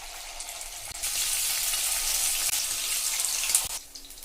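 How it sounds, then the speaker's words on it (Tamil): Marinated prawns hit hot oil and set off a loud, steady sizzle that stays dense and close throughout, with a brief clatter partway through and the sizzle easing slightly at the end. "இப்போ எறாவை எண்ணெயில் விட்டுக்கலாங்க."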